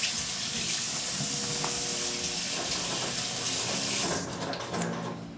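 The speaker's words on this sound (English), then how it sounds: "Wash my hands" Hands rinsed under a running tap, a steady broadband rush of flowing water that stays loud throughout, with faint background tones and a slight drop near the end.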